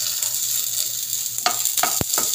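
Onions sizzle steadily in a hot frying pan, a constant hiss with a few sharper crackles and a brief knock of a utensil near the end.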